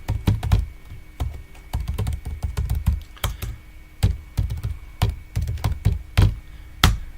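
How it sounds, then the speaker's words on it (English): Fingers type on a computer keyboard in quick, irregular bursts of sharp clacks and key thunks, close by and clear, with short pauses between runs and no voices. "I'm just going to type this again."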